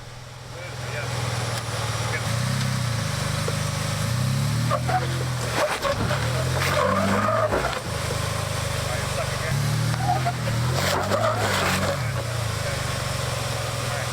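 A 4x4 truck grinds against a rock obstacle on an off-road trail in Utah, its engine droning loudly and steadily while the tires slip and scrabble on the rock in repeated surges.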